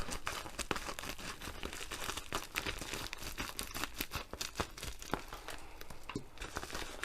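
Crinkly plastic packaging of a diamond painting kit being opened and handled up close, with a continuous stream of crackling, rustling and tearing sounds and no talk.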